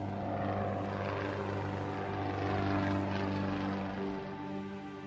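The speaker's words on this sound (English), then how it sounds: "And I hear an airplane." A propeller airplane drones steadily over a glacier, a continuous engine hum at moderate distance that swells slightly as it approaches.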